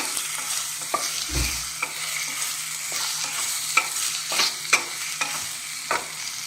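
Crushed chilli and ginger sautéing in a pan, an even loud sizzle broken by repeated spoon scrapes and taps as it is stirred, with no talking.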